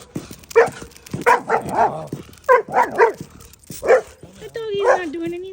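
A German Shepherd-type dog gives several short barks and yips in close succession, loud and near, mixed with a person talking and some whimpering between the barks.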